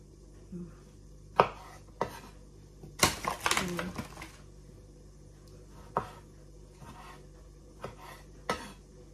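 Knife cutting cherry tomatoes on a board in a home kitchen, sharp separate chops and taps spaced through the clip with a brief cluster of clattering in the middle, close and fairly quiet.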